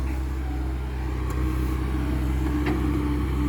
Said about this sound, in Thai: ตักดินใส่รถเพราะฉะนั้นก็ มัวแต่เกามัวแต่นี่ก็จะเสียเวลา นะครับเสียเวลาในการขุดดินขึ้นรถ